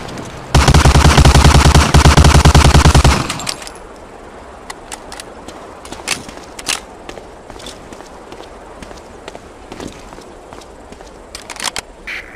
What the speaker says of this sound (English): Shoot that target 20 times with the Thompson.